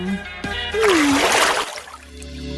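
A vegetable drops into water with a splash and a swirl of sloshing, the burst lasting about a second before fading, while background music plays behind it.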